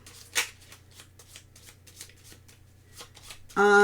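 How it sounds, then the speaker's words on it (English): Board game cards for Parks second edition are shuffled at a table in quick, soft riffling bursts and taps, close and clear, ending with a sudden tonal sound. "And then we shuffle these."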